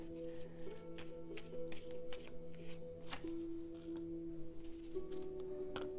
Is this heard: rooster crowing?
no